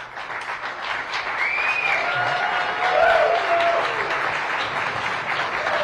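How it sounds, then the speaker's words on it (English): A crowd applauds at an outdoor topping-out ceremony for a regional medical center, steady clapping that swells and holds for several seconds, with a few whistles rising above the sustained ovation. "can we have a big applause for"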